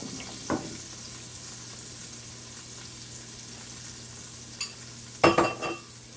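Onions searing in a pan in the juices left from jerk shrimp and chicken give a quiet, steady sizzle, with a few brief utensil clatters toward the end.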